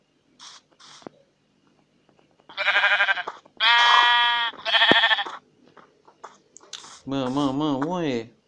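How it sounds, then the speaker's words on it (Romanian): Minecraft sheep bleat several times in short, wavering bursts, one after another at close range, with someone speaking briefly between the calls. "Mă, oaie."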